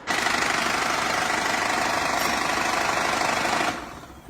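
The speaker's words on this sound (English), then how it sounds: "The engine is knocking from bottom end." A car engine with a bottom-end knock runs steadily for about three and a half seconds, a close, loud, even mechanical clatter that then drops away abruptly, heard alone without talk.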